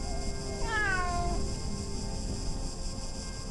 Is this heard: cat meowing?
yes